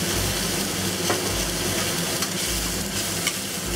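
Fish fillet and mushrooms fry in sesame oil, giving a dense, steady sizzle throughout with a low background hum and a few faint stirring ticks.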